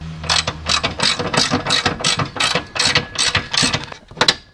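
A ratchet clicks rapidly in quick bursts, about a dozen close, loud strokes, while undoing an exhaust mount bolt on a Classic Mini.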